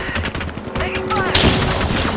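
Rapid automatic gunfire in a battle royale game, a dense, loud, close stream of cracking shots with no gaps, while game voice lines sound faintly beneath it.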